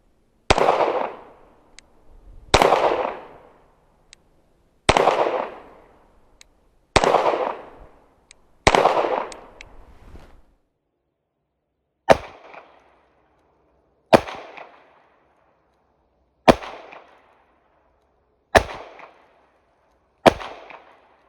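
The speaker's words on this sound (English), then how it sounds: "from that distance of 15 yards, I fired 5 shots into the body of the target, and here's how that went." Ten sharp, loud pistol reports from a Tisas Stingray fired at a 15-yard target on a range, the first five spaced about two seconds apart with longer echoing tails, then five crisper shots at similar intervals, no talk.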